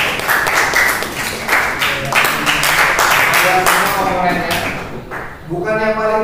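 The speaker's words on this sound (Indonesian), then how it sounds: "Tepuk tangan dulu" A classroom of students applauds a group's presentation, a brief rattle of close clapping mixed with chatter and a teacher talking, fading as speech takes over.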